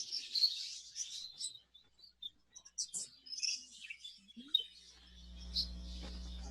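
Budgerigars chirp and twitter in an exhibition budgie aviary with breeding boxes, a busy run of quick, high, scratchy calls at moderate distance, with a steady low hum setting in near the end.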